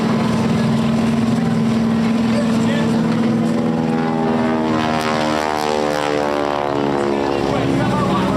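Bright red propeller stunt airplane performing a wing-walking act at a beach air show, its engine drone loud and steady with a shifting pitch as it dives and passes, under crowd-side commentary.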